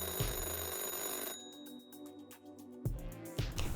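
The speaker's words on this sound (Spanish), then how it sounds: "el teléfono no dejaba de sonar" A telephone rings repeatedly in a crowded room full of anxious people during a crisis, its bursts of bright ringing trilling clearly over a busy, shifting background.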